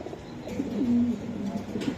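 Caged male racing pigeons coo close by, a soft, low, rolling call that swells near the middle and recurs faintly at the end over a quiet room.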